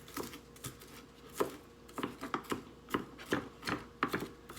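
A knife chops a shallot on a cutting board in quick, uneven bursts of crisp taps, close and fairly quiet, with short pauses between runs and no talking.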